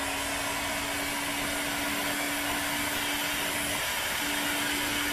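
A heat gun blows hot air onto heat shrink tubing while wiring 12-volt power in a vehicle canopy, a steady loud broadband roar with a constant motor whine, running unbroken throughout with no talk.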